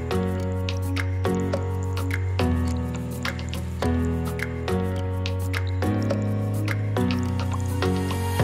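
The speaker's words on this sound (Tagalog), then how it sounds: "Haluin ito at pagkatapos ay salain ito upang makuha ang katas nito gamit ang tela." Plant extract drips and splashes into a container as it is strained through cloth, a steady series of close, distinct liquid drops with a wet, squishing undertone and no talking.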